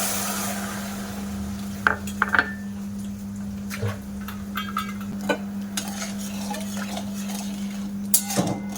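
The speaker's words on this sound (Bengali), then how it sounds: "চিনিটা দিয়ে দেবো কড়াইতে জল দিয়ে দেবো" Sugar and water cook in a metal wok for syrup, heard as scattered spoon scrapes and clinks against the pan over a steady low stove hum, nearby and moderate in level.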